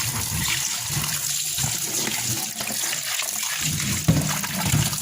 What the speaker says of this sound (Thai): ล้างจนกว่าน้ำจะใสนะคะ